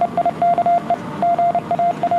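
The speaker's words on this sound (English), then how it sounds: "More Morse nonsense there to excite the internet." Morse code beeping in a clean, single-pitched tone, a loud rapid pattern of short dots and longer dashes separated by brief gaps.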